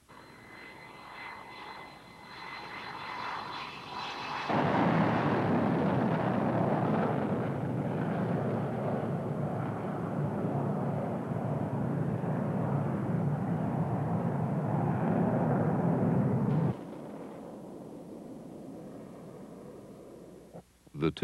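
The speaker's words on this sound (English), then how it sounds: "The two sets of aircraft approached each other at high speed" Two F-14 Tomcat jet fighters fly past at high speed, a loud, broad roar swelling in abruptly and holding steady for about twelve seconds before cutting off, with quieter engine rumble before and after and no talking.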